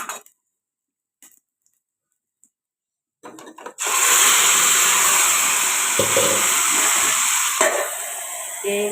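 A few faint clicks, then a loud, continuous sizzle of an egg frying in a hot pan, steady and close, with a brief clatter near the end.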